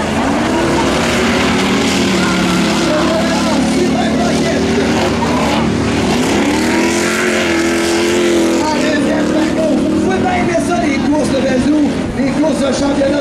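Two-wheel-drive jalopy cars race on a dirt track at Plessisville, their loud, roaring engines rising and falling continuously, with a commentator talking over the noise throughout.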